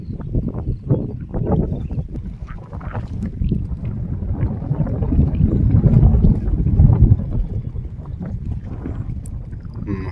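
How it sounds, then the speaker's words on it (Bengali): Steady wind blows across an open fish pond planted with rice, buffeting the microphone with a continuous low rumble that swells and eases over several seconds; no one speaks. "পানিতে প্রচুর বাতাসের ঢেউ।"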